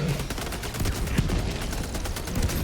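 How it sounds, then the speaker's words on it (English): In Helldivers 2, an orbital barrage pounds a bug nest as a dense, unbroken stream of crackling blasts over a low rumble, loud and continuous for about three seconds. "Orbital barrage incoming. Stand clear."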